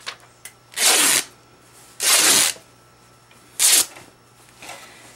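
Fabric tears for a doll-making project in three sharp, loud rips, each about half a second long, separated by brief quiet pauses, close to the listener.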